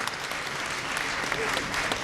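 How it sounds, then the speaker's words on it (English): Live audience at a cooking demo show bursts into steady, dense applause for a finished dish, a close wash of many hands clapping throughout. "Big round of applause for that dish"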